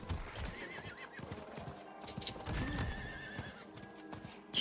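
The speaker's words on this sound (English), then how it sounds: "I'll just run through there on this horse." A horse gallops in the Diablo 4 video game, hooves clip-clopping in a quick rhythm with a neigh and scattered game effects layered over it.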